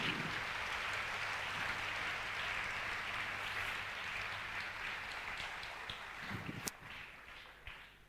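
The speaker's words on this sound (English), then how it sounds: "Let's all give a big round of applause for Mr. Stanley Yen." Audience applause welcoming a speaker at a seminar, a steady wash of clapping that fills the room and slowly thins toward the end, with a few sharp isolated claps near the close.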